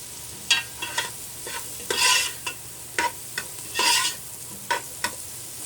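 Butter, celery and chives sautéing in a pot for corn soup, a low sizzle under repeated spoon scrapes and clinks against the pot, with two longer stirring swishes.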